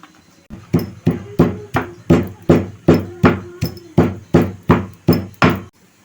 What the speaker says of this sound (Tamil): இப்போ நம்ம இந்த எள்ளையும் இடித்து எடுத்துக்கலாம்.